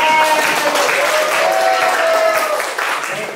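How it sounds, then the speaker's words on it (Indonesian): Classmates applaud students who scored 100 in a classroom lesson, a loud burst of clapping mixed with voices and a few cheers throughout. "Tepuk tangan buat yang dapat 100."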